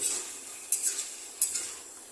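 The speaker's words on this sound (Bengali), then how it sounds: "আমি বড়াগুলো ডালের বড়াগুলো এখানে মিশিয়ে দিচ্ছি" Fried lentil fritters being stirred into Malabar spinach cooking down in a pan, a steady soft sizzle with two brief scraping clinks of the spoon against the pan, close by and without talk.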